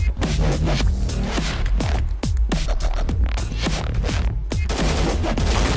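Rapid, loud gunfire in a first-person shooter video game, sharp cracks repeating every fraction of a second throughout, dense and near with no talking over it.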